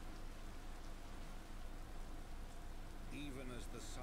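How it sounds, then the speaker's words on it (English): Rain falls on the streets of Ishgard in the Final Fantasy XIV video game, a soft steady wash of downpour throughout, with a brief faint tonal chime rising near the end. "we're seeing rain on the streets of Ishgard."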